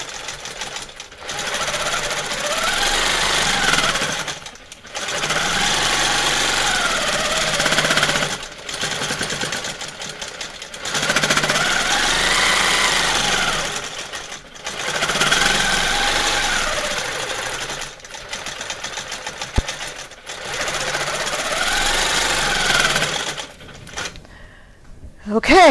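A quilting machine stitches the borders of a quilt in repeated long bursts of rapid, whirring needle action, each run broken by a short silent pause, roughly six runs in all.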